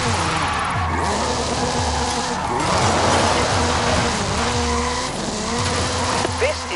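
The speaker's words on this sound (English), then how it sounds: "Hoonigan Gymkhana 10 Ford Focus RS RX. 2-litre, turbocharged, front-mounted engine and all-wheel drive." In Forza Horizon 5, the Hoonigan Gymkhana 10 Ford Focus RS RX, a 2-litre turbocharged all-wheel-drive rally car, skids with continuous tire squeal and a revving, shifting engine under a voice talking throughout.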